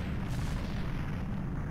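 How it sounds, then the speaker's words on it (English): A tower collapsing in Zelda: Ocarina of Time, a dense, steady rumbling roar of crumbling masonry and explosions filling the whole stretch without letup. "And then the tower starts to collapse and fall."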